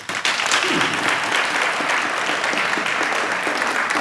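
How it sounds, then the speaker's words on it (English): An audience at a school event in Tamale, Ghana bursts into loud applause after a brief quiet start, the crowded clapping holding steady and full for the rest of the stretch. "Give me a round of applause."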